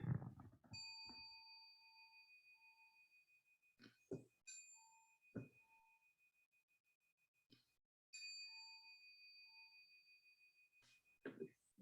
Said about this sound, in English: will ring the bell